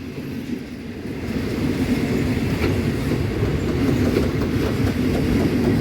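A suburban Thai train is hauled slowly through Thonburi station toward the yard, its cars giving a steady loud rumble with faint wheel clatter and rail squeal that holds throughout.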